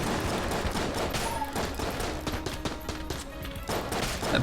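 Rapid gunfire from a bulletkin enemy in Enter the Gungeon, a quick burst of shots like an AK rattling over busy game music and effects, steady and loud throughout.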